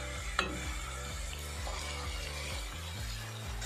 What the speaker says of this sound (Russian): Разогретое масло. Высыпаем сначала лук, морковь. Теперь мясной фарш.